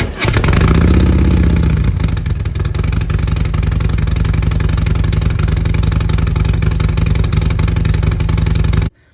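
A loud Harley-Davidson 2020 Low Rider S motorcycle with stage 3 tuning and a Screaming Eagle S&S 2-into-1 exhaust revs up sharply, then settles into a steady, throaty rumble that cuts off abruptly at the end.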